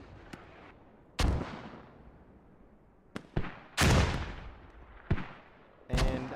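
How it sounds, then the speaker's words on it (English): Mortar fire in a multiplayer war video game: several loud booming blasts at irregular intervals, each a sharp crack with a rumbling tail, separated by quieter stretches of distant background noise. "I don't know what these mortars are shooting at."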